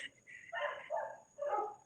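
Dogs barking in a quick series of three or four sharp barks and yips, close by, with no talk.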